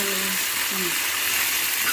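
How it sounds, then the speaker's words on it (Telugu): Steady hiss and sizzle of water hitting a hot pan of fried vegetables while making barada, with a voice talking briefly under the noise. "వేగిన తర్వాత వాటర్ వేయాలి"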